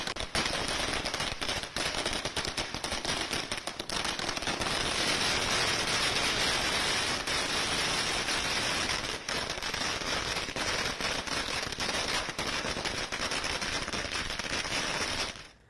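Firecrackers burst nonstop in a long, dense crackling barrage, loud and close, as party workers of Maharashtra Navnirman Sena celebrate in the street, with no talk over it.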